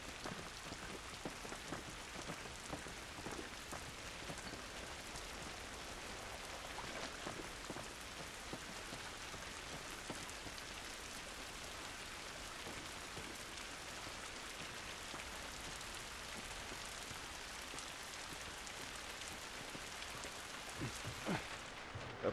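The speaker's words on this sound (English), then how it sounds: "This rain ain't gonna do us any good." Steady rain pouring outdoors in the game The Last of Us, a dense, even hiss of drops on surfaces with scattered closer patters, continuous and fairly quiet throughout, no voices.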